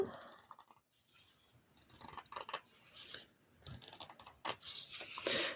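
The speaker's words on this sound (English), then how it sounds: "you can just cut along the line, which makes it very easy to cut" Scissors cut along the lines of cross stitch aida fabric, producing close, quiet, irregular snipping and crisp clicks in short bursts separated by brief pauses.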